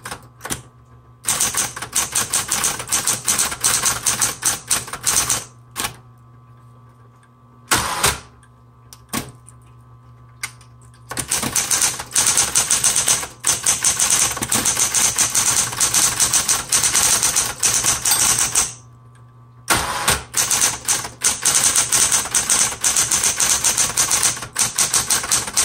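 Bursts of rapid, sharp key strikes from a 1970s Smith Corona Coronet Automatic 12 electric typewriter, close and loud, with a constant motor hum underneath and several short pauses between typing runs.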